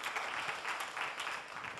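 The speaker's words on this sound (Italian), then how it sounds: "quindi un altro applauso per i nostri stilisti" A television casting-show audience applauds for the stylists, a faint, steady wash of clapping from a crowd lasting a couple of seconds without speech.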